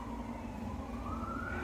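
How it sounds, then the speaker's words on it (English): A police siren wails steadily in the distance outdoors, a sustained rising tone over a low traffic rumble, moderately loud and continuous. "Police. If you ignore those sirens, I didn't do anything."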